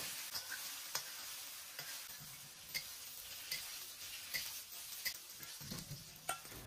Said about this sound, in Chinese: 因为铁锅刚刚煎了豆腐，